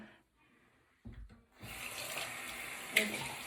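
Tap water runs steadily into a sink to wet hands for a skincare routine, starting with a few soft knocks and then becoming a continuous close splashing rush.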